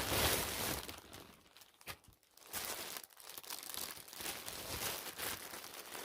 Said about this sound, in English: let's rip it open and check it out